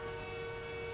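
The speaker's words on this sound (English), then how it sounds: "Oh, that's the train. I thought somebody was honking at me." A train horn sounds in American Truck Simulator, one sustained steady blast held loud for the whole moment.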